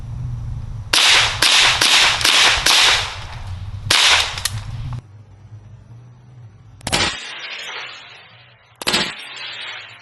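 A Mark 18 rifle fires silver bullets in a rapid cluster of sharp, loud cracks, then a pause and two more separated shots with echoing tails, close by and without speech.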